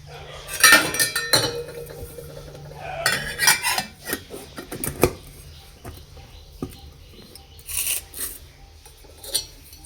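Washed steel dishes, pots and cutlery clink and clatter as they are picked up and set down in a home kitchen, a run of sharp metallic knocks and rattles up close, some clustered, others single, with no talking.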